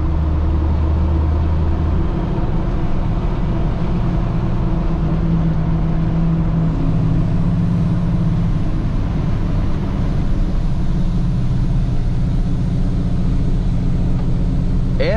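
A loaded Dodge Ram pickup on 40-profile tyres engine-brakes down a long descent on a farm road, a loud, steady low engine drone with a slowly shifting pitch, heard from inside the cab.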